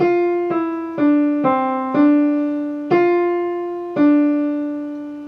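A single piano line plays slowly, about seven sustained notes struck one after another, each ringing and fading, with no voices.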